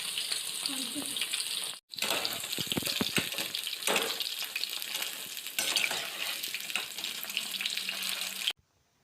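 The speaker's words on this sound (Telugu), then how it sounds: "మీడియం ఫ్లేమ్లో ఫ్రై చేసుకోవాలి చికెన్ని" Chicken pakodi deep frying on a medium flame, a loud, continuous bubbling sizzle with a brief break near the start and scattered stirring clinks, close by.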